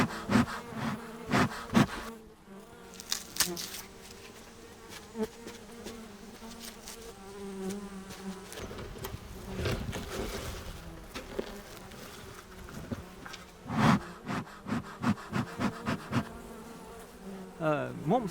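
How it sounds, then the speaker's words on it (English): Bees kept by a Latvian family living in traditional rural style buzz close by, individual insects droning past in bursts that swell and fade over a quiet background. "We've had bees for 5 years now."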